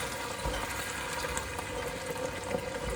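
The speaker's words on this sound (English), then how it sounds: "I'm just going to deglaze this basically" Red wine poured into a hot pan to deglaze it after searing Wagyu beef short ribs gives a steady, close sizzle and bubbling hiss with no voices.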